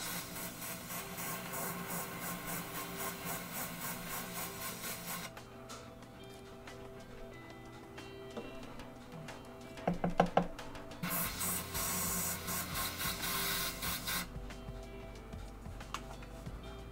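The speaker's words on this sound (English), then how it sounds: "Airbrush real quick" An airbrush sprays paint in long steady hissing bursts, close and continuous, broken by a short pause and a few small clicks partway through.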